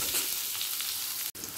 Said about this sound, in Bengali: আলুটা হালকা লাল করে ভাজা হয়ে গেছে